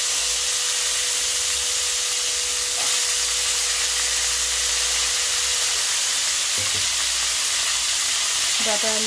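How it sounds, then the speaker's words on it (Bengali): Pieces of drumstick and potato fry in hot oil seasoned with black cumin, the same oil just used for frying tangra fish. A steady, loud sizzle runs close up throughout with no talking. "ডাঁটা আলুটা আমি একটু ভালো করে ভাজা করে নিচ্ছি"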